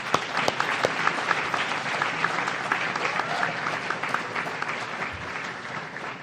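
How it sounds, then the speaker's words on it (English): A convocation audience applauds orientation leaders at a new student ceremony, a sustained, even patter of many hands filling a large room for about six seconds with a few distinct claps popping out. "let's have a nice round of applause for these incredible orientation leaders"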